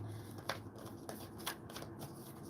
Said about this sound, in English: I'm just going to have 5 more shuffles.